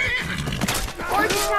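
A horse neighs loudly in the Skyrim video game, a shaky whinny with hoof clip-clops, heard up close over game sounds with a voice talking.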